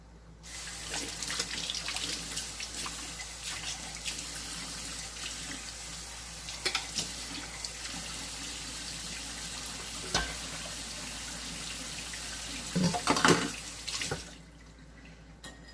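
Tap water runs steadily into a cooking pot while making a spicy Puerto Rican escabeche soup, a continuous hiss close by, with a few clinks and a brief louder splash near the end before it stops.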